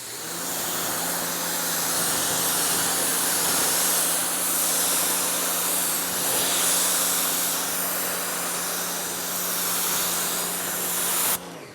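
Water spray from a hose rinses the top panels of a car, a continuous broad hiss that holds steady for about eleven seconds before cutting off abruptly at the end.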